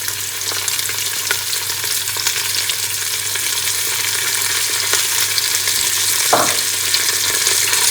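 Spices and meat sizzle and fry in a pot for chicken palao while being stirred, giving a steady, close hiss with occasional scraping stirs and no talking.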